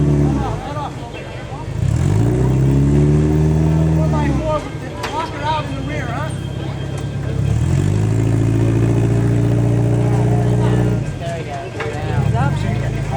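Front-wheel-drive stock vehicle at an all-stock rock-crawling event revs hard and spins its tires against a rock obstacle, the engine rising and falling in two long sustained bursts with tire noise, up close, alongside voices.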